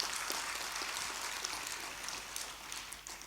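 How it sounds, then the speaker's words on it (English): Faint, distant applause from the audience at a students' national conference, a soft steady patter of many hands heard from far back in a large hall. "Can you give a round of applause?"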